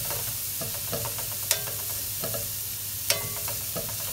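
Chopped onion, meat and a couple of small garlic cloves stir-frying in a pan, a steady close sizzle broken by a few sharp utensil scrapes and clinks against the pan, with no talking.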